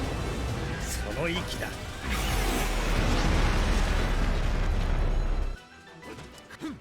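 A mech explodes in the video game Daemon X Machina, a heavy crashing boom with a deep low rumble that holds for a few seconds and then cuts off, over busy game sounds.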